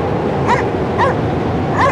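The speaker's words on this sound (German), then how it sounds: "Ein Hund." A dog barks three times in the game Cryostasis, short yelping barks spaced about half a second apart over a loud, dense background drone.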